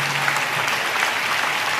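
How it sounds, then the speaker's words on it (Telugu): Applause from a church congregation during a sermon, steady dense clapping held at an even level throughout a short stretch with no voices over it. "ఆ దేవునికి చప్పట్లు కొడుతూ స్తోత్రాలు చెప్దాం"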